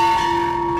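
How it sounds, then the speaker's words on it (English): A single bell outside a restaurant, rung for good luck, gives one clear metallic strike with a steady ringing tone that sustains through the moment. "be sure to walk around the corner and ring the bell"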